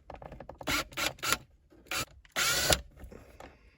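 A Torx T15 bolt is being backed out of a car armrest cover with a bit driver: several short bursts of close mechanical ratcheting and clicking, separated by brief pauses, with one longer grinding run near the end.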